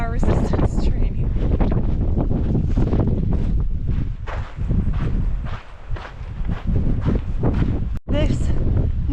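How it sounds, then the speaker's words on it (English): Strong wind buffets the microphone on a sandy desert hiking trail on the Pacific Crest Trail, a loud, steady roar with gusting surges and a sharp dropout near the end, with a voice talking faintly over it. "The wind and the sand today provide us extra challenges"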